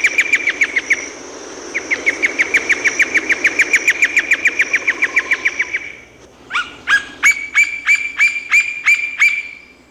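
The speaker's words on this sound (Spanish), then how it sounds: "Una fue Celeus flavescens." The blond-crested woodpecker, Celeus flavescens, gives long, loud rhythmic series of ringing, repeated notes, a steady fast run followed by a brief pause and a slower, more emphatic sequence, clear and alone.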